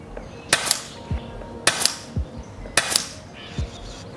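An air rifle firing flattened pellets gives three sharp, fairly close cracks at even intervals, each followed by a short thud of impact downrange, with quiet between shots.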